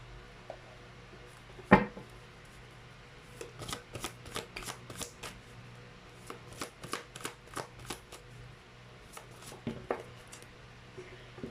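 Tarot cards are shuffled close by in a quiet room: a loud riffle at the start, then a long series of soft, quick flicks and slaps in uneven bursts, with no talking.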